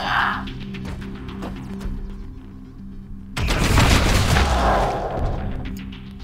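In Warhammer 40k: Deathwatch, a sudden burst of heavy plasma cannon fire erupts midway, loud and sustained with booming blasts, following quieter mechanical hum and clicks.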